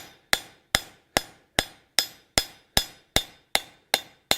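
Hammer forging edge bevels onto a copper spatula worked cold: eleven sharp, evenly spaced metallic blows, each ringing briefly before the next, close and loud with no talk.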